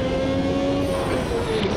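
Ferrari 333SP racing engine downshifting without a throttle blip in the Automobilista 2 sim, a steady, loud, high-pitched engine tone that shifts pitch partway through, alone without talk.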